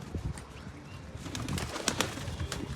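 Soft, low pigeon coos repeat against a quiet background, with faint rustling and a few higher chirps.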